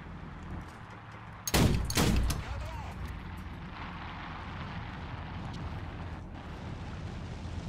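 A ZSU-37 anti-aircraft gun fires in War Thunder: two loud, heavy blasts about half a second apart stand out, then fade into a steady low engine rumble.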